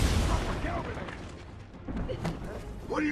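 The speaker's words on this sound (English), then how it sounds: "Detonate the 2 charges" Explosive charges go off in Batman: Return to Arkham Asylum, a heavy booming burst at the start with a rumbling tail, then further impacts and scattered game effects, while voices are heard.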